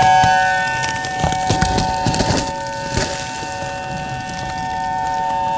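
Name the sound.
tornado siren sounding at night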